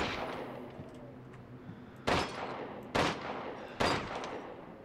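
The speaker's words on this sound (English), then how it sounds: "I'm just going to shoot the windows up" Three loud shotgun-like blasts from Resident Evil Village as windows are shot out, spaced about a second apart, each a sharp broadband crack over a low, steady indoor ambience.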